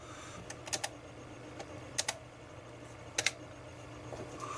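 Keys clacking on a ZX Spectrum 128K +2 keyboard, a few sparse clicks and short double taps spaced out over a steady low hum, fairly quiet and close with no talking.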